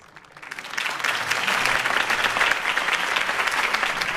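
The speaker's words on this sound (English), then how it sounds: "could have heard that applause" A crowd breaks into applause after a campaign speech in the Batman Telltale video game, clapping swelling quickly from quiet to a dense, sustained roar.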